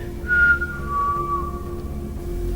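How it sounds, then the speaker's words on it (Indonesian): A single whistled tone, sliding slightly down in pitch and held for about two seconds over a steady low hum. "Aku juga udah ngelakuin bersiul di malam hari."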